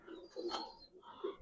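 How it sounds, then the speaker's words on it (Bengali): A tota pigeon of an old bloodline gives soft, low cooing notes in a few short bursts at close range, with faint higher chirps in the background and no talk. "একদম তোতা কবুতর,"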